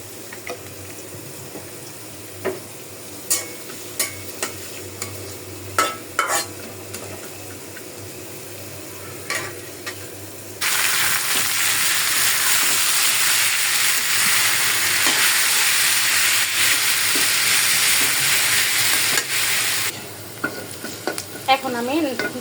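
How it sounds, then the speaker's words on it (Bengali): Steamed greens are tempered and fried in a kadai: a few scattered clicks and taps, then a loud, continuous sizzle bursts in and hisses steadily for about ten seconds with stirring before it drops away. "শাক ভাপ দিয়ে ফেললাম এবং শাকটা বাগার দিয়ে ফেলি।"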